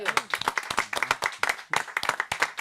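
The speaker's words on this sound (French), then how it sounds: "j'attends de votre part, chers amis du public et chers amis chroniqueurs, de grands applaudissements" A small studio audience at a French talk show claps briskly for a few seconds, with sharp, uneven hand claps close by.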